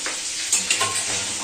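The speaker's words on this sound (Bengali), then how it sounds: "চিলি চিকেন হবে, ভাজা হচ্ছে" Chicken pieces sizzle and crackle steadily in hot oil in a pan, being fried for chilli chicken in a home kitchen, with a few stirring scrapes and sharper pops over the continuous hiss.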